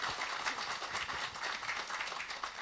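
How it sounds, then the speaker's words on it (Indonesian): A group of people applaud together in a steady, even patter of clapping that fills the whole moment at moderate volume. "Tepuk tangan tuh Mbak Flah."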